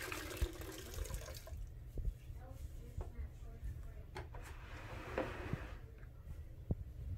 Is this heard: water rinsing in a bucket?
yes